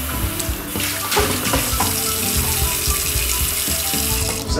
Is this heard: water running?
yes